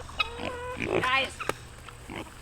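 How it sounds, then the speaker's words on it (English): Pigs grunting and snorting while eating cucumbers, with several short squealing and grunting bursts close by, and people talking over and between them. "I'm just going to give them to the pigs."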